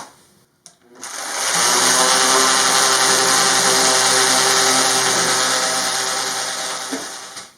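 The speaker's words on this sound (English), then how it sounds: "And then finally some sanding down, but I need to do a lot more sanding" A power sander works on a wooden RV workbench, starting after a few clicks and holding a steady, loud buzzing whine for several seconds before cutting off.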